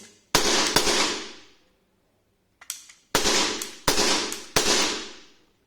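An Ekol ES 66 air pistol fires about five sharp, loud cracks up close. Each shot leaves a short ringing decay, with a pause after the first pair and then three in quicker succession.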